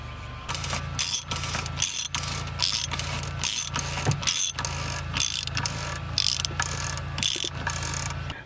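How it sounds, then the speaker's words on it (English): A ratchet tightens the oil filter cap on a 2011-2015 Jeep Wrangler with rapid, rhythmic clicking in bursts separated by short pauses, loud and close over a low background hum. "you can use your ratchet to do it the rest of the way."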